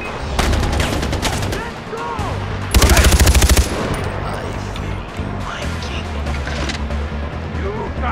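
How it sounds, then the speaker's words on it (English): Gunfire in the video game Far Cry 4, loud rapid bursts of automatic fire including one long, intense rattle near the middle, with voices from the game talking between and over the shots. "Keep shooting."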